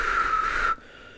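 A person attempts to whistle, producing a thin, breathy, wavering tone that holds for under a second before cutting off abruptly into quiet.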